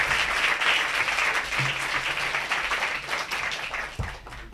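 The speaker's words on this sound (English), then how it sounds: "please join me in welcoming Nell Irvin Painter" An audience claps steadily and loudly to welcome historian Nell Irvin Painter to a lecture, a dense sustained round of applause with a few thumps and no one speaking over it.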